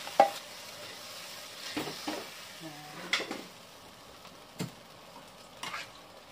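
Coconut milk being stirred into a pot of breadfruit, with scattered scrapes and clinks of a spoon against the pot over a soft simmer, quiet and spaced out.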